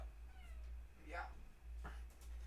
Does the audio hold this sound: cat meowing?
yes